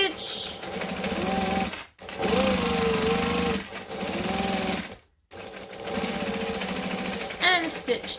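A sewing machine stitches a bag, running steadily in three bursts with brief stops between as it sews and back stitches, a voice speaking over the motor toward the end.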